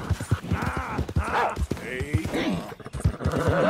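Steady clip-clop of horse hooves at a walking pace in Red Dead Redemption 2, close and rhythmic, a whinny in the middle, with a voice talking over them.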